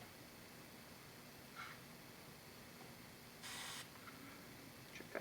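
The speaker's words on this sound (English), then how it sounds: "I'm going to apply the glue here first." Spray glue hisses from an aerosol nozzle into a speaker shell, set to hold foam: one loud, steady burst of about half a second, with two faint short puffs before and after, over a quiet room.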